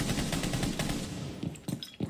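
Rapid automatic gunfire in Rainbow Six Siege, a quick string of sharp shots in close succession, some slightly distant, with a few louder cracks toward the end.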